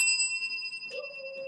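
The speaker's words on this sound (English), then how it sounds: "I love ringing the bell for all of our new students." A small hand bell rings out to greet newly arriving students, a clear bright ding with sustained ringing tones, followed by a second, slightly lower strike near the end, alone with no talk.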